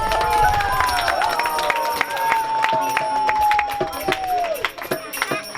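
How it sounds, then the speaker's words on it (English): Crowd at an initiation ceremony breaks into applause and cheering, steady clapping mixed with voices and a sustained sung or droning tone running underneath, fairly close and continuous throughout. "Big round of applause"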